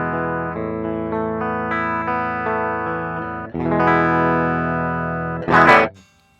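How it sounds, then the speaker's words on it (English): Electric guitar with P90 pickups recorded direct into Logic with no amp plugin, clean sustained chords ringing alone, a second strummed chord near the middle and a brighter, louder strum just before it stops. "so guitar going straight into Logic, DI'd into Logic, it sounds like this"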